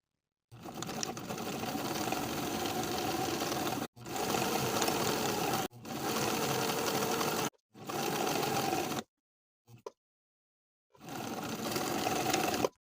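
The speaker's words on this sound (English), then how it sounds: "Sew the undercollar to the neckline straight across with a 3/8 inch seam allowance" A sewing machine runs in several steady bursts of rapid stitching as a jacket undercollar is joined to the neckline, each run a few seconds long with brief pauses between.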